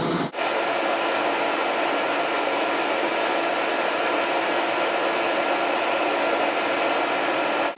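A Versa Spa spray tan booth nozzle at a Beach Fever Tanning salon blows a steady, loud rush of drying air, starting abruptly and holding constant with a faint tonal whine.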